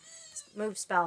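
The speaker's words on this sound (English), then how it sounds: "I'm sure you could probably hear them mewing in the background of the little kittens." Little kittens mewing close by, with a few thin high cries mixed in among a person's speech in a home setting.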